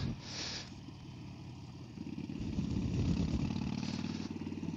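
A Harley-Davidson Forty-Eight motorcycle engine rumbling at low, loping revs, steady and fairly close, swelling a little louder partway through with a light wind rush on top.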